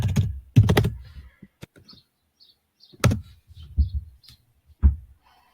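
Computer keyboard typing a git clone command in VS Code, a few short bursts of close, crisp keystrokes separated by quiet pauses.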